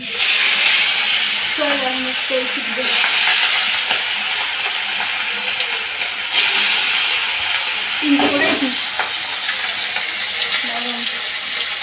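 Hot oil sizzling in a pan on a gas stove in a home kitchen, a steady loud hiss with occasional crackles and a few clinks of utensils, and a voice talking faintly at times.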